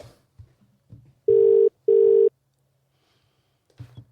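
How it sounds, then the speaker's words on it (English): A telephone rings twice in quick succession on a radio show, two loud electronic bursts close to the microphone, with a quiet voice murmuring before and after. "Is that ringing?"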